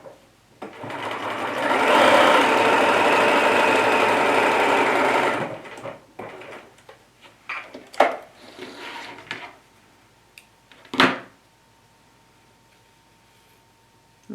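A Bernina sewing machine runs a straight stitch in one steady, loud burst lasting a few seconds, followed by scattered clicks, taps and handling noises as the fabric is adjusted.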